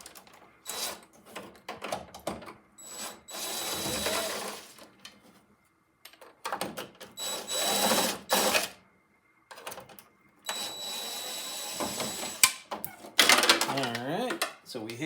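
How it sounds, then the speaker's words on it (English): Phillips screws being backed out of a Jeep XJ headlight bezel, heard as several bursts of close mechanical whirring and ratcheting separated by short pauses, with faint sounds of handling in between. "we have two Phillips screws here, and this is going to take our bezel off"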